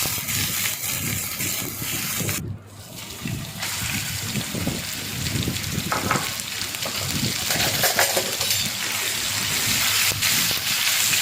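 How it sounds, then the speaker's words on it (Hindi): Garlic ginger paste and chicken mince frying in a little oil give a continuous, close, rain-like sizzle with a brief dip early on, then a steady crackle to the end. "ऑयल 2 टीस्पून, 1 टीस्पून लहसुन अदरक का पेस्ट डाल दिया है। ब्राउन हो जाए तो इसमें चिकन का कीमा ऐड कर लेंगे"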